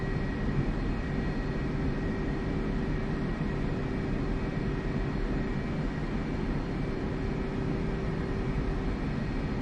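A jet aircraft taxiing in the flight simulator game DCS: a steady, loud engine drone with a constant whine, unbroken throughout with no talk.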